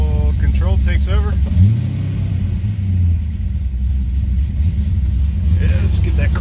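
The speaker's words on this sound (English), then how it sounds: "Don't want to rev it too high." A Corvette LS2 V8 engine with a cam swap idling with a brief rev rising and falling, while a person talks over the low rumble.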